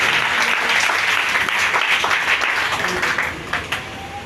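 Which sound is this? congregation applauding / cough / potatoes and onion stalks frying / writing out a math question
congregation applauding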